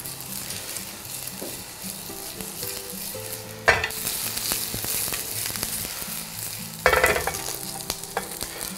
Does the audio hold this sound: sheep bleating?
no